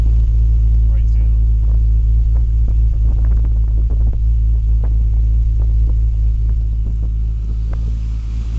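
BMW M635 engine idling steadily, heard from near the rear exhaust, with a deep continuous low rumble and faint mechanical ticking from the cam, no speech over it.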